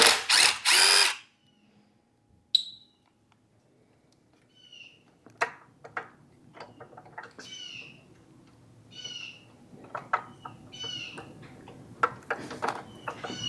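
A power tool tightens the motor bolts on a Go Power Sports Rascal GT Cruiser scooter in one loud, close burst of about a second, followed by near quiet with scattered birds chirping in the background.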